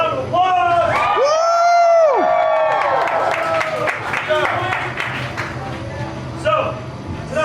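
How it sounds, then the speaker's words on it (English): A crowd at a haunted attraction sideshow cheers and claps for a performer, with loud whoops and high shouts rising over the applause and voices calling out throughout. "Give her a round of applause!"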